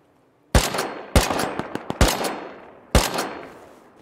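Gunfire from the video game Rust, four sharp loud shots spaced unevenly, the middle ones coming in a quick burst, each ringing out with a long fading echo and no talk.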